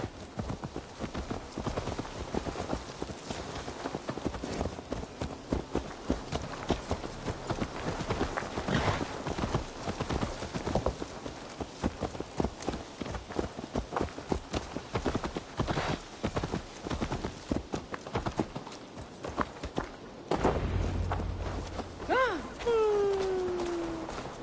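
A horse walks in Assassin's Creed Valhalla, its hooves clip-clopping in a steady, moderately quiet rhythm over game ambience, with a brief breathy sound near the end.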